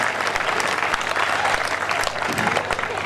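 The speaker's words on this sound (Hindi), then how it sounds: "तालियां अच्छी बजाइए मैं आपके बीच में हूँ" A crowd at a Hindi poetry gathering applauds loudly and continuously, dense clapping filling the whole stretch with faint voices mixed in.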